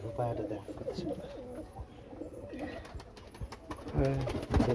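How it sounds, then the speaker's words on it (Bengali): A Rajshahi pigeon coos in low, soft, rhythmic murmurs close by, mixed with rustling and handling noise at a quiet level. "এই দেখো পায়রাটা, দেখো কত সুন্দর।"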